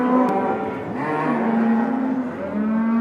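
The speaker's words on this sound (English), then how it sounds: "that's the cows officially sorted from the calves" Cattle on a farm moo repeatedly during sorting from their calves, several loud, drawn-out calls close by with brief gaps, and no talking.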